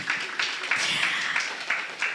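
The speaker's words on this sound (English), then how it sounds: "A round of applause for Joe." Clapping from an audience at a female MSME award ceremony, a steady, moderate round of applause in an indoor hall with no speech over it.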